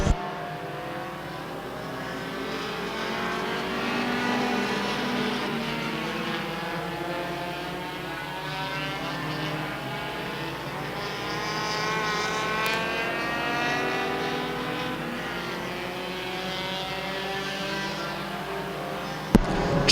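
Race cars at Stockton 99 Speedway roar steadily around the oval in a dense, sustained engine drone with rising and falling pitch sweeps as cars pass side by side, loud throughout with no talk.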